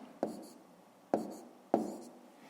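Pen strokes writing sums in a school maths notebook: three short scratchy taps spaced under a second apart, close and quiet, with no voice.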